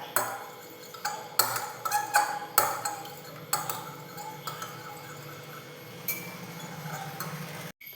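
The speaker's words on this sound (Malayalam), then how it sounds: "ഉടച്ചെടുത്ത മുട്ട നമുക്കിനി ഒന്ന് അടിച്ചെടുക്കാം" Eggs beaten in a bowl with a utensil, giving irregular clinking taps against the side, fairly close, settling into a softer continuous swishing toward the end.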